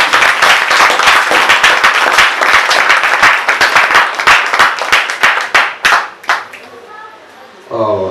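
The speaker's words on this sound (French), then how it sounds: "acclamez très fort Jésus-Christ." A church congregation at a camp consecration service applauds in brisk, steady rhythmic clapping that fills most of the span, then thins out as a voice begins speaking near the end.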